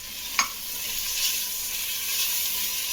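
Mint and coriander leaves frying in a pan, giving a steady, loud sizzle and hiss with one brief scrape of stirring near the start.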